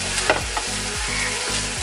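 Shredded meat being stirred with masala in a hot pan, a steady sizzle with repeated scraping strokes of a spoon across the pan in a regular rhythm, close and fairly loud, no talking.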